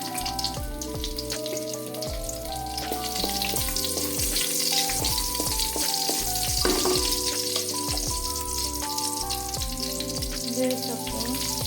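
Garlic frying in about two tablespoons of hot oil, a dense, continuous crackling sizzle with scattered pops and clinks, steady and close.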